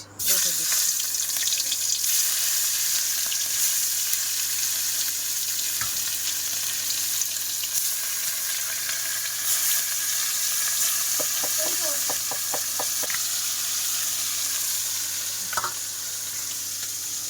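Rui fish coated with salt and turmeric fries in hot oil, giving a loud, continuous close-up sizzle with occasional spatters and faint voices in the background.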